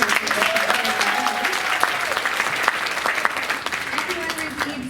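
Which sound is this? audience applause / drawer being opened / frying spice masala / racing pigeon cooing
audience applause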